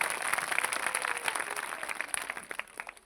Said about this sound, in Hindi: तो ताली बजाकर प्रभु को धन्यवाद दीजिए जोर से